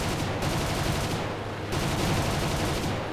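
Aircraft guns firing in War Thunder, a fighter over Norway: continuous loud rattling bursts of cannon and machine-gun fire over steady engine roar, with short pauses between volleys.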